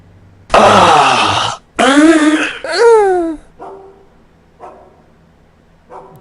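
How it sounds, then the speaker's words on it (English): Dog barks and growly vocalizations from Payday 2 game sound files, a few loud close barks in quick succession followed by softer whining moans, with silence between. "Dog sounds, weird moaning."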